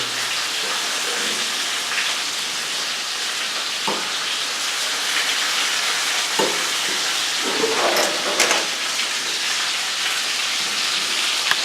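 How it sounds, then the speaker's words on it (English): Fish fries in a pan with a steady, crackling sizzle throughout, broken by a few sharper pops and stirring clatters, no voices. "So we're still frying. That one fish hasn't even turned yet."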